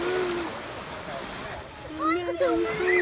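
Sea waves wash and splash around a child at the beach, a steady watery rush with an adult and someone talking over it.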